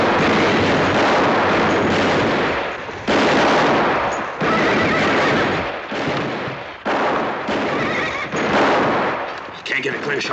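Rapid, loud gunfire in a 1959 Western town standoff, dense shots and volleys filling the scene in bursts with brief gaps, horses whinnying amid the barrage and voices shouting underneath.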